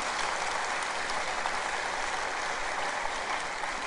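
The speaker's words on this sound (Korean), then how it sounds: "나는 이런 얘기하면 박수 한번 할 줄 알았어요." A church congregation applauds in a sustained, even wash of clapping that runs steadily from start to finish at moderate volume, with no voices over it.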